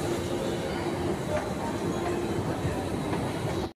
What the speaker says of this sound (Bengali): আমি এখন হাওড়া মেট্রোতে রয়েছি